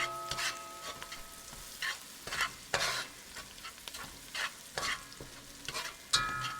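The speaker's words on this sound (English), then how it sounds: "I've been sauteing here about 5 minutes" Vegetables sauté and sizzle in a pot for crawfish étouffée, a steady frying hiss broken by repeated scraping stirs of a spoon, up close with no talking.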